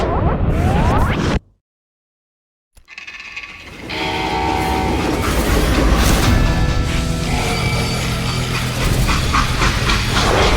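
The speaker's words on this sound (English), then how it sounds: "How'd they stop this train in the first place?" Train in the video game Call of Juarez: Gunslinger, loud rumbling rail noise that cuts to near silence for about a second, then returns as a sustained clattering roar with tonal whistle-like layers and metallic hits.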